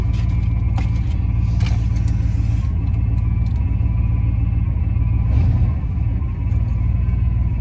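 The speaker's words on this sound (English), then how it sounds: "You can tell my power steering pump's happy with me." A car's power steering pump whines under a steady engine rumble, close and continuous, with a few faint clicks and a brief louder swell toward the end; no talking.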